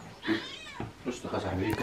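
A pet cat meows a few times up close indoors while someone talks over it.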